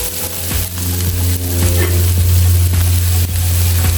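Meat sizzles steadily in a hot pan, with occasional scraping stirs and a constant low stove hum underneath.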